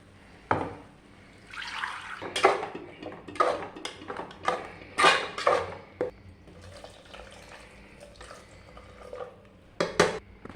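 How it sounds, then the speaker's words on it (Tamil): Water is poured and sloshed close by into a pot of legume curry, with intermittent clinks and scrapes of a utensil stirring it. "தண்ணி ஊற்றி எல்லாத்தையுமே மிக்ஸ் பண்ணி விட்டுக்கணும்"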